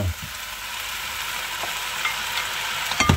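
Tomatoes are added to a sizzling pan of homemade garden ratatouille, a steady close frying hiss with soft scraping and clinks of stirring that grow busier toward the end.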